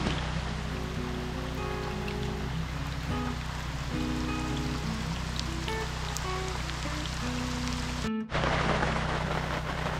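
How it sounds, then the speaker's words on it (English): Rain falls steadily on a Shelter Logic tent shelter at an off-grid homestead, a dense, continuous patter with a brief dropout near the end before the downpour resumes just as heavily. "as you've seen, more rain. Here it comes."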